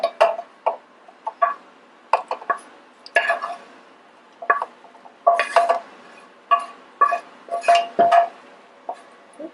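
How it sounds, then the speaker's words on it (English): Browned mushrooms being moved into a food processor, with a string of sharp clinks and clatters of dishes, utensils and the processor bowl, close and irregular, with short gaps between knocks. "we are going to transfer them to our food processor"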